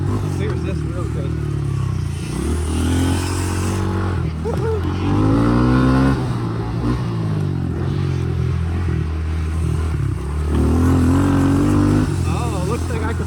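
KTM E5 and Honda CRF110 dirt bikes racing on a dirt bike track, a close droning engine with rising and falling revs, wind-buffeted and continuous, while a rider talks over it.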